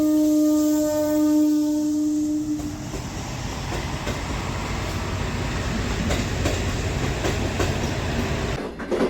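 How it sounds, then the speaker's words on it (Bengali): An old-style local train pulls in and slows to a halt, opening with a sustained whistle-like tone before giving way to rolling wheel rumble and clatter that fades toward a stop, with no talk. "দূর থেকে একটা পুরনো ধাঁচের লোকাল ট্রেন ধীরে ধীরে এসে থামলো আমার সামনে।"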